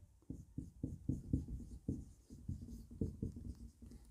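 Chalk or marker on a classroom board as an example is written out, a run of short rubbing strokes in an uneven rhythm, close and clear, with no speech.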